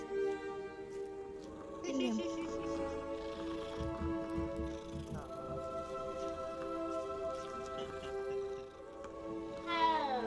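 A cat in the Hogwarts Legacy video game meows in drawn-out, rising and falling cries, close and fairly loud over soft background music, with a short bright whine near the end.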